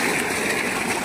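Water gushes steadily from a village borewell, a continuous loud rushing and splashing with no voices over it.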